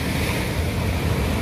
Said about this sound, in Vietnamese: Có những con sóng nó đánh cao đến 4 đến 5 mét đó cả nhà.